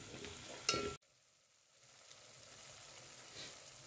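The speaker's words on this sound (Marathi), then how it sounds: "तेल घालून घेऊयात थोडंसं मसाला परतवायला" Masala for a chicken curry sautéing in oil, with a short burst of stirring and sizzle near the start, then a brief cut before a faint, steady frying hiss continues quietly.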